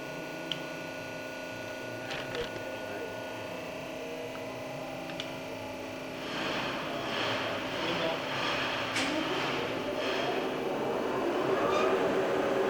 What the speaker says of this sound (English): Indexing the turret.